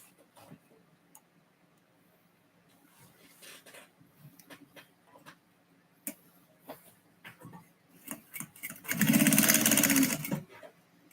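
A sewing machine stitches nearby: scattered soft ticks and short mechanical clicks lead into a loud, steady run of rapid stitching near the end before it stops.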